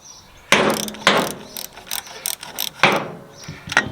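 Ratchet wrench loosening a bolt on a John Deere 2030 tractor alternator, with several bursts of quick clicking strokes separated by short pauses, close and fairly loud.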